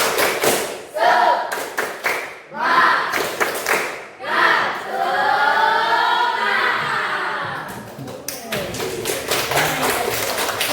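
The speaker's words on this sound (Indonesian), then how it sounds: "Coba kita sama-sama 1, 2, 3 tepuk semangat." A classroom of students performs a rhythmic spirit clap in bursts of sharp synchronized claps and chanting voices, pausing between patterns, with a stretch of group chant in the middle and a final flurry of fast claps.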